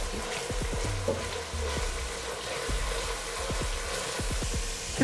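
Browned ground beef sizzles steadily in a pan with red pepper paste added, a dense frying hiss broken by a string of sharp scraping and stirring strokes, close and fairly loud with no talk.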